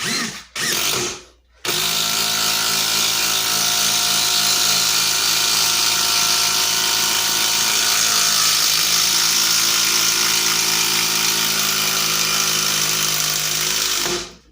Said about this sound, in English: I'm still going to drive this screw with 2 bars on the DeWalt Extreme.